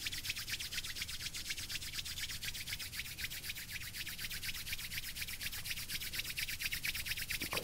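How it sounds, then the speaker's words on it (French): Hands rubbed together vigorously and close, a rapid, even swishing friction repeating nonstop throughout. "Je frotte mes mains vigoureusement, je les chauffe"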